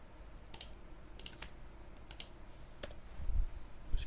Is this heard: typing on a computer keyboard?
yes